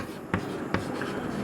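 Two quick strokes of writing on a classroom board during a lesson, short scratchy marks against a quiet room tone.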